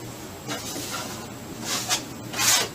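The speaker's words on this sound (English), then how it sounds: "I'm taking my trowel, I'm coming across" A drywall trowel scrapes and rubs across wet joint compound on a wall repair, a quiet, soft rasping smear with a few brighter swipes near the end.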